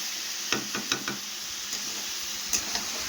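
Chicken with spices and green chilli paste fries in a pan under a constant hiss, broken by sharp, irregular spatula knocks and scrapes against the pan, with no talking over it.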